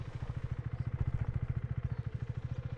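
A motorcycle engine chugs close by at low revs with a fast, even pulsing beat during slow U-turn practice on gravel, nearly steady throughout with no talking.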